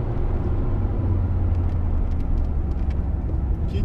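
A 2000 VW Golf 4 engine is revved toward 6000 rpm at full throttle, producing a loud, steady, droning engine roar close by throughout, with no voices.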